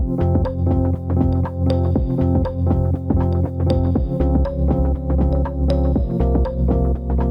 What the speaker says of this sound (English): That melody comes from a really simple plastic kalimba with just a little bit of Valhalla reverb on it.